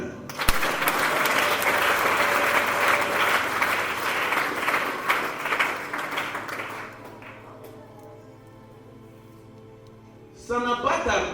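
A church congregation applauds at a baby's dedication, a loud sustained clapping that fades after several seconds, followed by a voice speaking.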